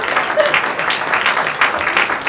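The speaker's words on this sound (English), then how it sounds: "Give them all a round of applause" An audience at a Chabad 10th anniversary gala gives a loud, continuous round of applause, thick and close, with a faint voice surfacing briefly.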